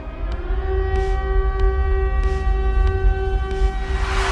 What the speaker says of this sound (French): les sirènes qui se déclenchent aléatoirement